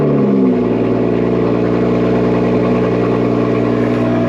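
A car fitted with an AW exhaust and a stage 2 tune, idling in a steady, deep, loud hum after a brief low rumble at the start, heard on its own.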